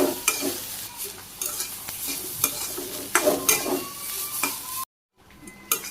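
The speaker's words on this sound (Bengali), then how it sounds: "দিয়ে দিলাম শিরা মাছ আমি সুন্দর করে ভাজি করে নিই" Shira fish frying in a hot pan in a village kitchen, a steady crackling sizzle with sharp spatter pops and occasional stirring clinks, close and loud, cutting out abruptly near the end before resuming faintly.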